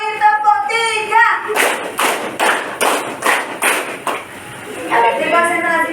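During a classroom clapping pattern game, a group of students claps in a fast run of about eight crisp, loud claps, framed by a teacher talking before and after.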